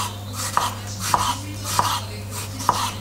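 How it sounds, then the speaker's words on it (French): A knife cuts peeled, cored apples into thin slices, giving four evenly spaced, close chopping knocks on a board above a low steady hum. "Après on fait les petites lamelles assez fines, pas trop épaisses."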